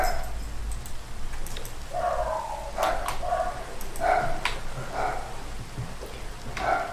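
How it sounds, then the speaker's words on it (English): Dogs barking outdoors as someone passes along the street: repeated muffled barks at a distance over a steady background hiss. "apologize about the dogs."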